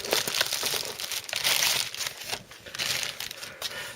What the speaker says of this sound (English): If I can ever get it out of this plastic bag